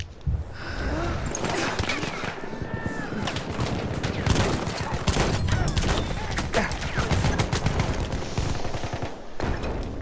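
Dense, continuous shotgun fire and chaotic gunfight noise in a first-person shooter video game, with repeated sharp bursts over a loud, busy mix that runs throughout.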